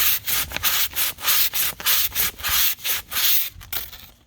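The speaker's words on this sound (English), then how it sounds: "we're just going to try and sand this edge a little bit to get things a little more smooth" Fine-grit sandpaper rubs back and forth along the edge of a foam Halloween tombstone, a steady series of about a dozen close, loud rasping strokes with brief gaps between them and no talking.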